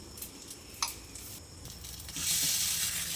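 Ground coconut paste for Chettinad paal kozhukattai sautés in a pan with a soft sizzle. A few faint clinks of a spoon land early, then the frying hiss swells louder near the end.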